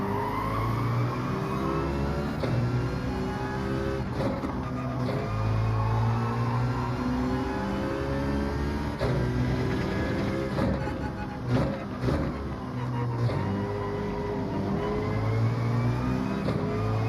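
A Genesis G70 Gr.4 race car in Gran Turismo 7 at the Nürburgring GP roars continuously near and loud, its engine rising and falling through gear changes with occasional tire squeal.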